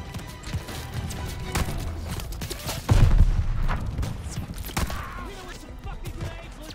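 Gunfire in a World War II battle at El Alamein in Call of Duty Vanguard: scattered shots and bursts of fire, some close and loud, mixed with battlefield clatter. Brief talk is heard underneath.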